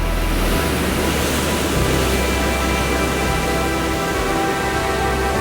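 Storm waves crash and spray against a rock close by, a loud, continuous roaring wash of surf with wind noise.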